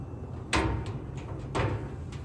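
A door on a corner former machine being opened, with two distinct metallic clunks about a second apart against a quiet hum, followed by fainter knocks.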